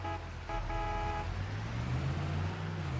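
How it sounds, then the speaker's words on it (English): A car horn in the video game Farming Simulator 25 toots in a steady held tone, briefly broken, then fades as a low engine rumble carries on underneath. "Now that sounds more like a decent car horn."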